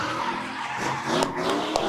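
Loud drift cars at a Michigan drift club matsuri, tires squealing steadily while engines rev and bounce off the limiter, with a couple of sharp pops near the end, no voices.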